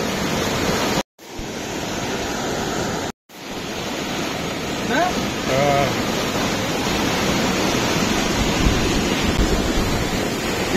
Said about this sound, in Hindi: देखिए कितना सारा पानी यहाँ से निकलता है और इस दरिया में जाता है